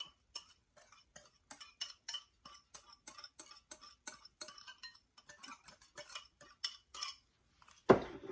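A knife chops an onion on a board for a hush puppy batter, giving a quiet series of crisp, slightly irregular taps at about two to three per second, ending in one louder knock.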